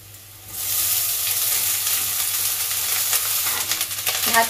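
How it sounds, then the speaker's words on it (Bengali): Cooked rice dropped into a pan of onions fried until red, setting off a sudden loud sizzle that holds steady, with a few stirring scrapes near the end, close by and without talk. "এবারে এর মধ্যে আমি ভাতটা দিয়ে দেবো"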